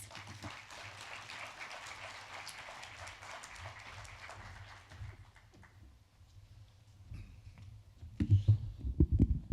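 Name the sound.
audience applause for speaker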